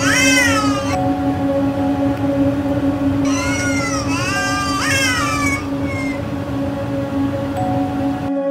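A pet cat meows and caterwauls in a series of drawn-out, rising and falling yowls, loud and close, with a steady low hum underneath and no talking.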